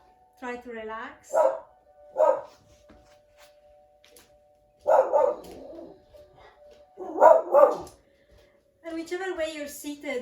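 A pet dog barks in short, scattered bursts at a distance while a calm voice guides a relaxing yin yoga session, its yaps breaking through between phrases.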